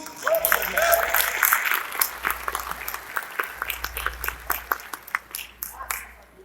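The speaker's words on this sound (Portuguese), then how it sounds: "Vamos aplaudir Jesus?" An audience at a creationist symposium lecture applauds, a dense burst of clapping that swells and then thins into scattered claps as the speaker's voice carries over it.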